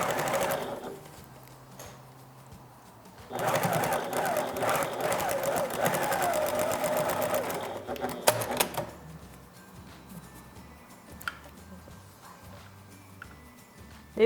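A domestic sewing machine runs a short burst of rapid stitching, pressing through a fabric face mask over its nose wire. The clatter is close and moderately loud, with quieter handling sounds before and after.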